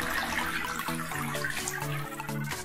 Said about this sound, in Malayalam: ആവറേജ് വെയിലുണ്ടെങ്കിൽ ഇതിങ്ങനെ വെള്ളം വീണുകൊണ്ടിരിക്കുക അതിന്റെ മുകളിൽ നിന്ന്